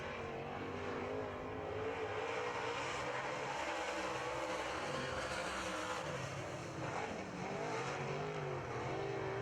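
Modified race cars roaring around the track in a heat, a steady, loud, dense engine drone from several cars at once, rising and falling slightly as they pass, with no talk.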